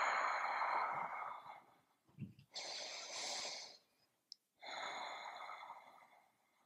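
Deep breaths taken while holding a yoga pose: a long audible exhale, a short snort-like intake, another breath, a brief pause, then a further slow exhale, close and alone.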